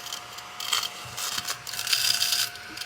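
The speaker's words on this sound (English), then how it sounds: "So look at this cute little, it's like a little vacuum." A small tabletop desk vacuum runs with a faint, thin whine under light clicking and rattling mechanical noises that rise and fall over a few seconds.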